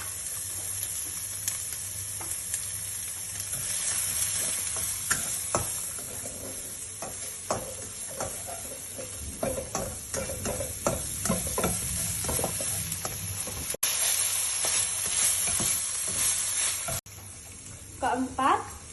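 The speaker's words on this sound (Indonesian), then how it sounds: "tumislah bawang putih dan bawang bombay hingga harum. Kemudian setelah itu baru dimasukkan daging cincang" Minced meat stir-fries with garlic and onion in a hot pan, making a loud, constant sizzle broken by repeated scraping and stirring strokes from a utensil.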